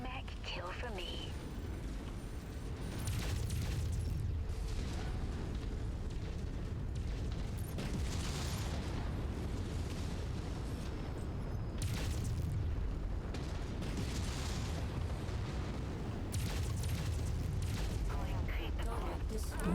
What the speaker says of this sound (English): Reactor is about to explode.